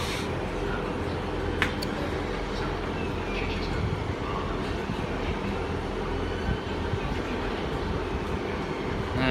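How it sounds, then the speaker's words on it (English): A Great Western Railway train, unit 158956 on a Portsmouth Harbour service, rumbles steadily at Southampton Central station, a continuous low drone with a faint squeal near the start. "As you see in front of me, we've got the Great Western Railway service,"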